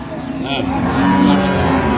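A cow with her calf gives a long, loud moo close by at a rural cattle market, the call swelling and holding over a low murmur of background noise.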